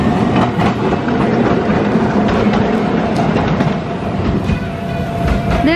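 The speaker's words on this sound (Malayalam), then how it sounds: "ഇത് ന്യൂസിലാൻഡിലെ ഒരു ഓൾഡസ്റ്റ് ട്രാം ആണ്." An old tourist tram in New Zealand runs on its rails, giving a loud, steady rumble with clattering wheel noise and faint squeals close by for the whole stretch, with no talking.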